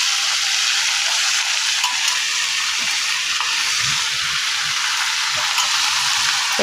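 Tomatoes for a kootu chutney fry in a pan with a loud, close, unbroken sizzling hiss, with a few soft stirring knocks beneath it.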